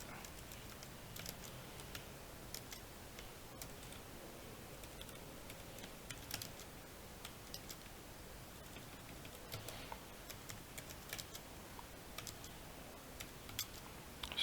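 Steady typing on a computer keyboard while entering a style sheet link: quiet, close clicks and taps in irregular bursts over about fourteen seconds, with no voices.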